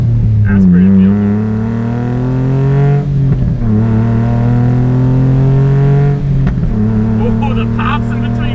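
A naturally aspirated kei car running a motorcycle engine and a custom exhaust revs hard and loud up through the gears, its engine note climbing and dropping at each shift with brief crackles in between.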